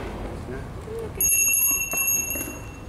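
A bell rings to signal a break during a basic rider training exam, entering abruptly with a steady, piercing high ring over murmuring background voices and room noise.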